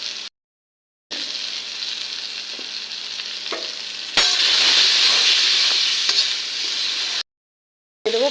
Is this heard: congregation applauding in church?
no